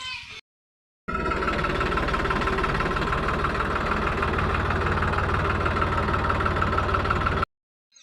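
A Farmtrac 60 tractor engine idles after being parked by a field, a steady close rumble with a fast rhythmic knock that runs for about six seconds, with silent gaps at the start and end.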